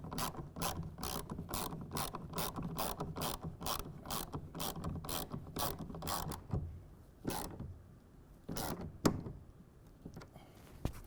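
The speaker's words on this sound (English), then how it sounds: "And we're going to tighten that again to 10 foot-pounds." Ratchet wrench tightening the mounting bolts of a RealTruck UnderCover Flex hard folding tonneau cover to 10 foot-pounds on a 2024 pickup, a fast steady run of clicks for about six seconds, then a few sparse clicks and faint handling noise.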